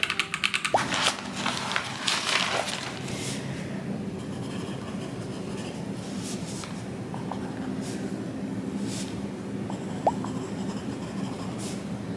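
Soft clicking keystrokes tap irregularly on a computer keyboard against a constant low hum, with a few sharper clacks now and then.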